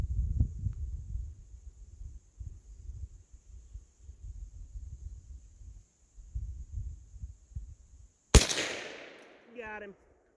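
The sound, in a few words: gunshot from Henry lever action .22 Magnum carbine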